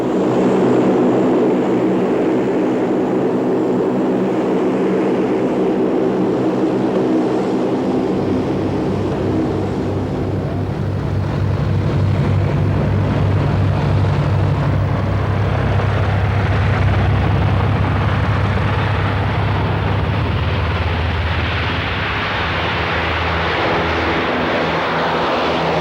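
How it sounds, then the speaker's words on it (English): Lockheed C-130 Hercules transport aircraft in flight during a 1984 military exercise, its turboprop engines giving a loud, steady cabin drone with a deep, pulsing low hum that holds for the whole span. "The Hercules is also a very noisy aircraft."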